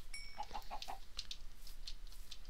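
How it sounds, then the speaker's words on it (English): A Minecraft chicken in a UHC match gives a quick series of short, soft clucks, close and faint against quiet game ambience. "Oh, chicken's right there."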